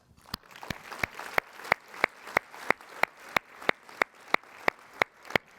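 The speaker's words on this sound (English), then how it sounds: "Let's give another round of applause for the incredible partnership we just heard about" Hands clapping at a Menu of Hope charity event, a steady, evenly spaced run of sharp claps, moderately loud and close, with no talking over them.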